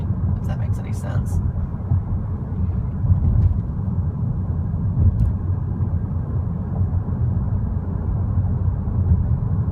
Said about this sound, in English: you can only hear like the grainy, grumbling four-cylinder kind of sound